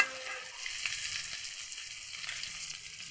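Fish frying in hot oil, a faint, even hiss and crackle heard at a moderate distance, with no stirring or voices.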